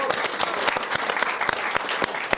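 A studio audience applauds the caricaturist Ignace on a French talk show; a modest group claps in a lively, uneven rhythm with individual claps distinct, close and steady throughout.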